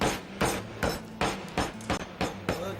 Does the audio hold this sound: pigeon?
no